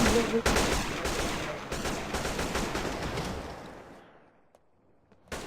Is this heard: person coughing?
no